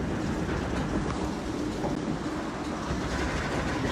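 Passenger train rolling along a riverside railway, a steady close rumble with rhythmic clickety-clack of wheels over rail joints throughout.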